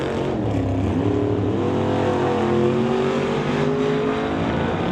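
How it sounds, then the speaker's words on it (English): A bright orange Chevrolet Chevelle drag race car at a Mission, BC drag strip event, its engine roaring steadily and loudly at close range, pitch rising through the run with a continuous, dense rumble. "LeBlanc in the very orange Chevelle"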